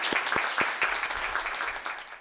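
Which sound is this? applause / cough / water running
applause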